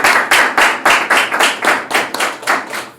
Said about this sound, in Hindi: आइए हम परमेश्वर के लिए जोरदार ताली बजाते हैं।